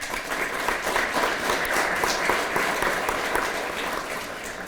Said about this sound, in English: I just want a round of applause for our chief for being here with us